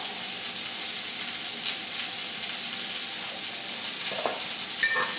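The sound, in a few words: Brussels sprouts sizzling in a pan as they are stirred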